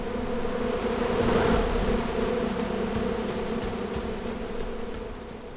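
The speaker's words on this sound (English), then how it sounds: "Whoa, look at all those bees. They're heading for that oak tree." A swarm of bees buzzing near an oak tree in the Florida Everglades, a steady, close, continuous droning hum with no voices.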